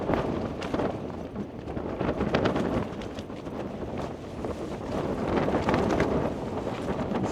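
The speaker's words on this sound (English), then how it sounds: "See how windy it is." Strong wind on a mountain summit during a solo bikepacking wild camp, roaring and buffeting a tent and the microphone in steady gusts that swell and ease, loud and broadband with no speech.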